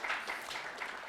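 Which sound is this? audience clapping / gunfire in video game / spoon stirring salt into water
audience clapping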